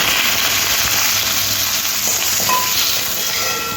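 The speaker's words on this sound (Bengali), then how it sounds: "দেখছো কত সুন্দর একটা আওয়াজ হচ্ছে এই তেলের মধ্যে আমি আলুগুলো ভেজে নেব" Diced potato cubes fry in hot oil, a loud, steady, close sizzle that stays even throughout, with no talking.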